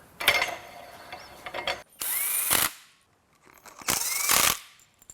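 An impact gun nips up valve body bolts on a Lexus 4WD in three short rattling bursts separated by pauses, close and loud in a workshop with no talk.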